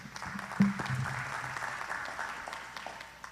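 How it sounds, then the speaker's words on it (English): An audience at a county listening-tour meeting claps briefly. The applause is fairly soft and distant, swelling and then thinning out over a few seconds. "Give them a big hand."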